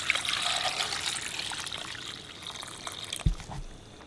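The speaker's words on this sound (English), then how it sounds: "Let's add some water." Water trickles steadily into a pan for gravy, close and continuous, then tapers off with a brief clunk near the end.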